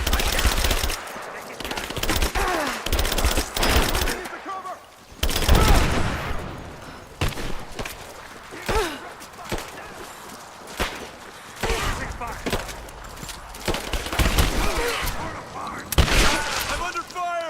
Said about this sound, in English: We've got shots fired!